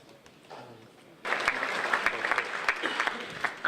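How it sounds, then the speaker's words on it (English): Audience applause at a BrightonSEO 2014 conference session breaks out sharply after a quiet stretch of room murmur, then continues as dense, steady clapping from a sizeable crowd. "If you can have a big round of applause for Jerry and our four lovely speakers here."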